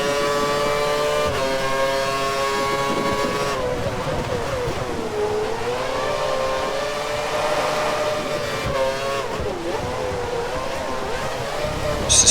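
Formula 1 race car in the F1 2013 video game, racing a wet Silverstone, accelerates out of a corner, its high engine whine climbing in pitch through gear changes. The sound is loud and sustained from close by.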